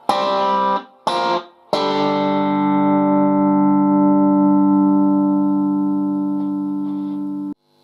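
Electric guitar playing a riff, three short choppy chord stabs and then one long sustained chord ringing out and slowly fading, close and clear, alone.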